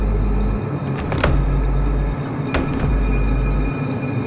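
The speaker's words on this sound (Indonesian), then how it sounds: "pintu ruangan itu tiba-tiba tertutup dengan keras" A room door in a hospital slams shut hard with a sharp bang, followed by a second loud knock a moment later over a steady low background rumble.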